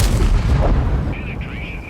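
A heavy, booming gunshot blast from a Manticore tank cannon in a game, loud and close, followed by a fading rumble and a faint high whine.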